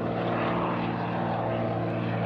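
The radial engine and propeller of a DHC-2 Beaver floatplane in the X-Plane 11 flight simulator drone in a steady, loud, even hum during a climb, with prop set to 2100 RPM.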